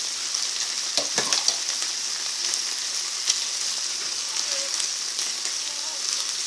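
Huitlacoche seasoned with salt and chopped epazote cooks in a pan with a steady, close sizzling and frying hiss, broken by a few brief stirring clicks, with no talk.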